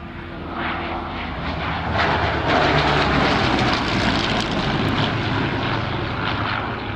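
A Hawker Hurricane fighter flies past at an evening air display at Shuttleworth, its piston engine giving a loud, sustained roar that swells toward the middle and holds steady, with no voices over it.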